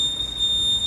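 A 2021 Bajaj Pulsar 150's indicator gives a steady, high-pitched electronic beep. The tone is close and holds unbroken through the short moment.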